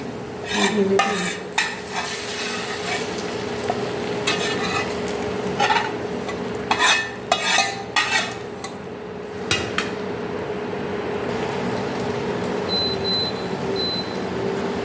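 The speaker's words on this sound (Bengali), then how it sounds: "এখন এখন এটাকে নেড়ে চেড়ে আমি মিশিয়ে নেব" Green banana being stirred and mixed in a pot on the stove, with repeated scraping and knocking of a spoon against the pot over a continuous sizzle.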